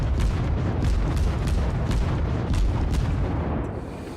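Naval cruiser guns fire repeatedly in World of Warships, a rhythmic series of heavy booms roughly every half second over a continuous low rumble, loud and close, tapering off at the end.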